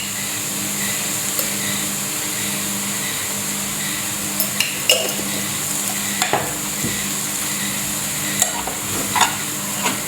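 Mushroom thoran, Kerala style, frying in a pan while being stirred: a constant close sizzle with intermittent spatula scrapes and knocks against the pan, no voices.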